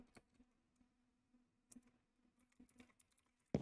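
Butterfly clicking on a computer mouse during Minecraft PvP, quiet rapid irregular clicks in short bursts close to the microphone, ending with a louder thump.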